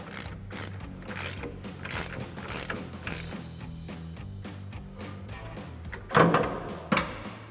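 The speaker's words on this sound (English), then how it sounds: "19mm ratcheting wrench and a 6mm Allen if you need it to hold the center" A 19mm ratcheting wrench tightens a coil-over bolt on a RAM 1500 with FOX 2.0 coil-overs, giving repeated rhythmic ratchet clicks in short bursts, close by, with a couple of louder metallic knocks near the end.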